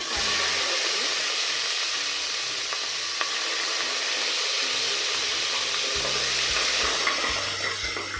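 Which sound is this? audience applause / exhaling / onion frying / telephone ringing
onion frying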